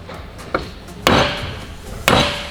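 Three sharp metallic strikes of a copper hammer on an old bolt, a light tap followed by two heavier blows about a second apart, each ringing briefly before fading.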